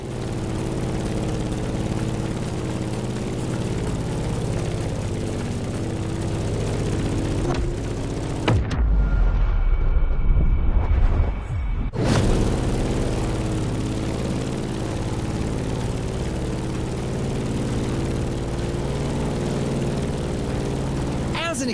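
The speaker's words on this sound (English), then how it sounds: "In the cockpit of a stunning Grumman F-8F Bearcat" Grumman F8F Bearcat propeller plane in The Crew Motorfest, its engine a steady low drone with a brief break where a louder rumbling burst takes over before the drone resumes.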